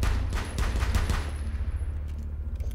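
Blind-fired gunfire in Rainbow Six Siege during a one-on-one duel: a rapid string of close, loud automatic shots that slows into a few scattered reports, then thins out as the firing stops.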